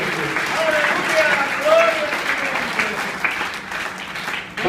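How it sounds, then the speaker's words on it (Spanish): A church congregation claps together in sustained, dense applause, with voices and cries rising over the crowd throughout. "Den un fuerte aplauso al Señor."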